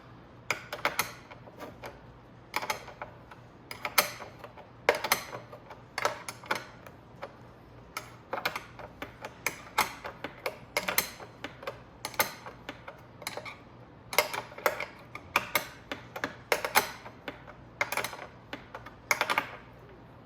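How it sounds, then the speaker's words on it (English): A 13mm wrench snugs a lock nut on a mirror of a Venom x18R 200cc automatic motorcycle, producing quick, light metallic ticks and clicks in irregular clusters, close and fairly quiet, with no talk. "Then we just take our 13 mil wrench. And tighten up our lock nut so it gets snug."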